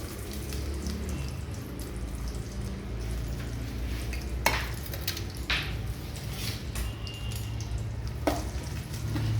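Coconut oil heating in a pan over a very low flame gives a steady, close sizzle with soft crackles and a few sharper pops, and no voices over it.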